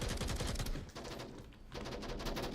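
Rapid bursts of gunfire in a competitive shooter video game match, loud dense volleys that pause briefly mid-way before resuming.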